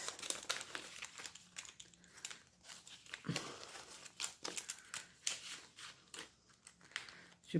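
A small paper envelope overfilled with banknotes for cash budgeting crinkles and rustles in continuous, irregular bursts as it is forced shut by hand, close up and fairly quiet, with no talking.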